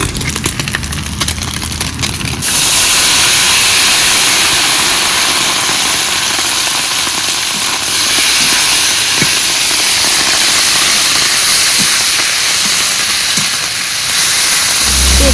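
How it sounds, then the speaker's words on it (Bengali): Small fish frying with neem leaves in hot oil: a quiet stretch, then a sudden loud, broad, hissing sizzle that holds steady and close for the rest of the clip. "নিয়েছি এবার মাছের সঙ্গে নিম পাতাগুলোও ভেজে নেব"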